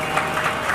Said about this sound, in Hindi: एक बार इनका भी जोरदार तालियों से स्वागत करेंगे।